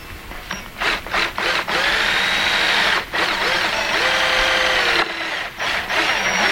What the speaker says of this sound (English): I just got to go get a drill and a drill bit so we can pre-drill this